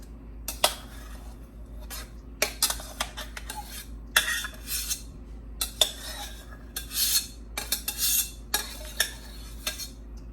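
Metal spatula scraping and scooping vermicelli rice out of a pot, giving repeated close clinks and scrapes of stainless steel against cookware in irregular bursts, with no talk.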